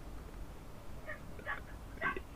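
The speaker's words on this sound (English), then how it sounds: "I just heard a dog barking" A dog barks faintly in the background of a home, a few short distant yaps spaced apart over a steady low hum.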